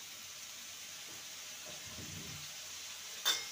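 Tomato and ginger-garlic paste hit a hot pan and sizzle with a soft, steady hiss and faint crackle, quiet and close, with a brief sharper burst near the end.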